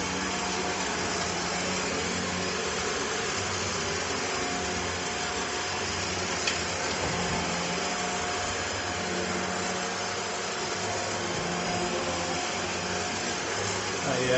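A Dyson Gen 5 Detect cordless vacuum cleaner runs in a steady, loud, whirring drone that stays constant throughout with no pauses.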